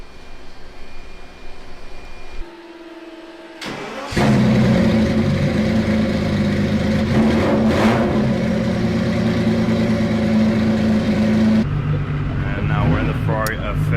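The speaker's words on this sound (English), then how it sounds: "Ferrari F50. Thing sounds crazy." A Ferrari F50 at Monterey Car Week revs loudly nearby, swelling into a sustained, strong engine roar after a quieter start, with a person talking over it.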